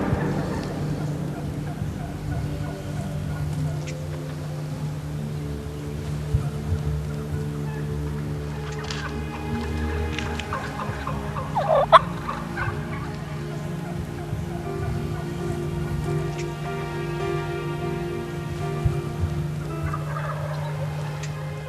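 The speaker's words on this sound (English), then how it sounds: "This is one of the most phenomenal eastern wild turkey gobbling mornings you will ever hear." Eastern wild turkeys gobble on a spring morning, several rattling calls from different distances, some faint and far, one nearer and louder, over a steady background hum.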